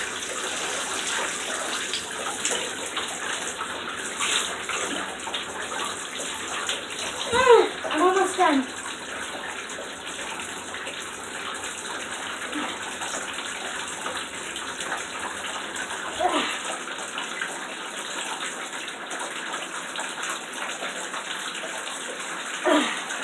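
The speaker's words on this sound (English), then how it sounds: "Let me get some more water in here." Tap water runs and gushes steadily into a basin or tub while FNAF plushies are washed by hand, a continuous wet hiss with occasional splashes and a voice talking over it.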